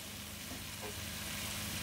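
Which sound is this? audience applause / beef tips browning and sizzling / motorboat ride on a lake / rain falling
beef tips browning and sizzling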